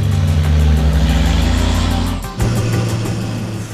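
A Cepsa racing truck engine revs hard with a loud, deep droning roar close by, dips briefly as it shifts, then surges again and holds strong.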